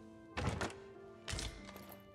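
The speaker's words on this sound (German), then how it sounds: "Noch einmal die Truhe hier auf." A chest being opened in the video game Dragon's Dogma, heard as two soft, muffled thunks a moment apart over a low steady game hum.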